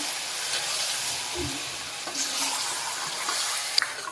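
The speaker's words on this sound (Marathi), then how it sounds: "आणि व्यवस्थित परतून घ्यायचं तेलामध्ये त्याला पाणी सुटेल आता" Mutton pieces sautéing in hot oil for a spicy mutton curry give a steady, soft broadband sizzle that holds at an even level throughout, with a faint clink near the end and no talking.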